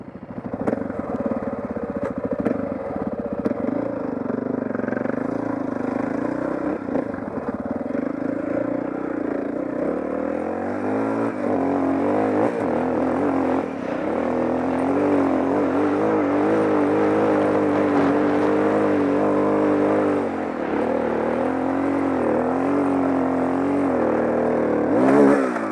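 A Honda XR650R dirt bike climbs a steep hill in Jawbone Canyon, its big single-cylinder engine roaring continuously close by, the pitch rising and falling as the rider works the throttle and gears.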